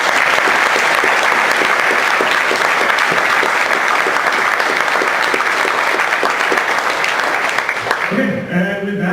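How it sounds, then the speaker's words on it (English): Sustained, dense applause from a technical conference audience fills the hall steadily for several seconds, then fades as a single voice begins speaking at the end. "please, one last round of applause for the speakers"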